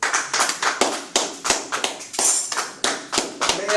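A church congregation claps in a loud, rhythmic, steady beat, many hands striking together in repeated close bursts.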